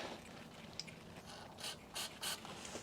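Socket ratchet turned by hand while working on a BMW R100GS motorcycle during a suspension install, a few soft clicking bursts near the mic in a quiet room.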